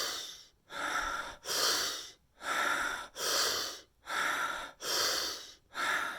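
Deep rhythmic breathing done as a migraine relief exercise: about eight strong, breathy inhale-exhale cycles in a steady, even rhythm, close and loud, with no talking.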